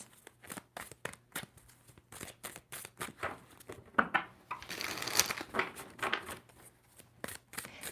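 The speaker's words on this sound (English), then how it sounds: "Two more shuffles for Gemini." Tarot cards are shuffled by hand in soft, rapid, irregular riffles and slaps, quiet and close, with a brief rustling flurry midway.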